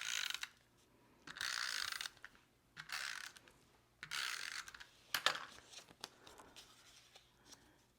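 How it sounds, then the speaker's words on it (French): A Snail adhesive tape runner rolls glue onto paper in several short ratcheting clicking strokes, quiet and close, separated by brief pauses. "je vais tout de suite le coller avec de l'adhésif Snail"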